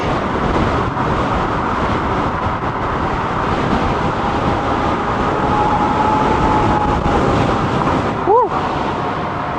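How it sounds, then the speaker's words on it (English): Steady, loud wind roar buffets a rider on a Teewing Mars XT electric skateboard at high speed. Broadband rushing noise fills the whole stretch without a break, with a brief tonal whine near the end. "Wind blowing me around."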